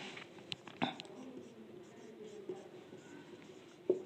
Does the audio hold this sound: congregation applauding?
no